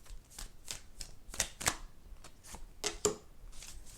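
Deck of tarot cards shuffled by hand in quick repeated riffles and taps, soft and close, with no voices.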